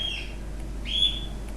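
Small pet birds indoors chirp twice, each a bright rising whistle-like call, the second one louder, over a steady low hum from the room.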